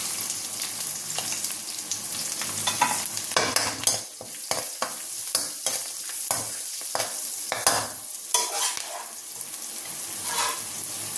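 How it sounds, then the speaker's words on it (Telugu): Cluster beans (guar) stir-fried in a pan with a little turmeric, a steady loud sizzle broken by repeated scraping strokes of a spatula, close up and without speech. "ఈ చిక్కుడుకాయలు ఇలా దేవుకొని వేసుకోవాలి"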